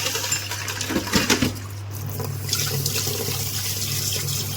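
Water runs and splashes from a running dishwasher into a kitchen basin, a steady close wash of flowing liquid with a few brief clinks near the start and no voices.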